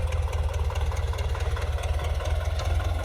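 A tractor engine idles steadily during potato planting, its low, pulsing throb loud and close, with no speech over it.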